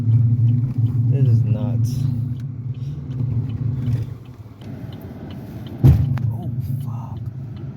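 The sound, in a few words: Chevrolet Malibu driving in with grinding brakes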